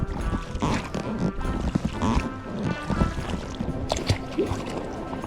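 A boat moving across a lake on a rescue run, with steady water wash and rumble, wind buffeting the microphone, and faint splashes throughout.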